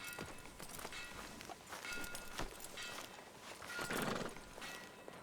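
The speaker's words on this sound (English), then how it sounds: "Oh, it's her horse." A horse's hooves clip-clop steadily on the ground in the video game Red Dead Redemption 2, a constant patter of hoofbeats over soft ambient noise, with no voices.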